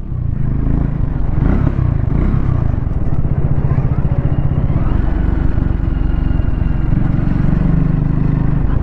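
A liquid-cooled 150cc motorcycle is ridden at easy speed on city streets, its engine a close, steady low drone with mild wind rush and slight changes in pitch throughout.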